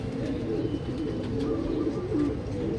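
Racing pigeons at a club training loft in Lucban, Quezon coo softly and continuously, several nearby birds producing low throaty rolling calls with no talking.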